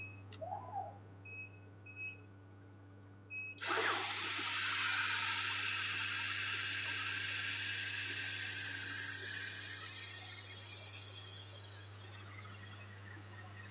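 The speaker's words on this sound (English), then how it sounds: "now the machine is cutting more thick than the previous was 5mm" Wood cutting machine working through thick wood, starting abruptly after a few electronic beeps and holding a loud, steady high-pitched cutting hiss that slowly eases, close up.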